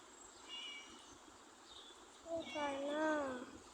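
A cat meows inside the Scary Teacher 3D video game: a faint short call early on, then a clearer rising-and-falling meow near the end over quiet game ambience.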